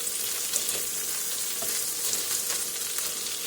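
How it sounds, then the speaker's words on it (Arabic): Butter melting in a pan gives a steady, even sizzle with fine crackling throughout, close and unbroken, with no talk. "أول ما دي كده أبدأ أسيح الزبدة"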